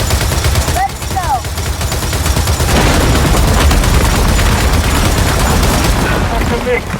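Turret gunfire roars continuously in a Gears of War 4 battle, a dense, loud barrage of rapid shots with booms and short whistling sounds layered over it.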